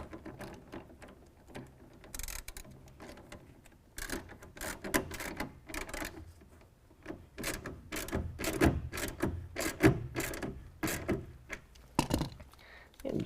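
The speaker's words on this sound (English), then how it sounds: "Using our 9/16, we're going to go ahead and tighten it down" A 9/16 wrench tightens a clamp on a BAK Revolver X2 tonneau cover on a 2014 Chevy Silverado 1500, giving close rapid ratcheting clicks in repeated bursts with short pauses.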